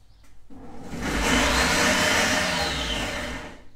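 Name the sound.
food processor chopping onions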